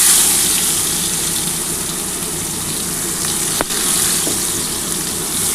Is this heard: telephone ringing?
no